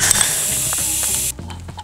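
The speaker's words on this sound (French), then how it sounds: "On peut s'emparer de notre clé à choc et démonter l'écrou." An impact wrench removes a nut on a Minarelli AM6 engine, giving a loud, steady high whirring burst for over a second that cuts off abruptly and is followed by faint mechanical clicks, with no talking.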